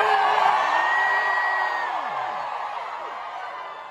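A concert crowd at a Wet Leg show in Webster Hall screams together, a dense, sustained roar of high whoops and yells that holds loud throughout and fades slightly toward the end.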